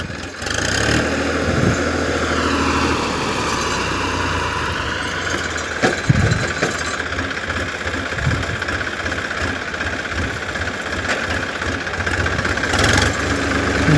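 A Massey tractor's diesel engine idles steadily with a low, chugging rumble, close by and continuous, with a few brief knocks and clanks along the way.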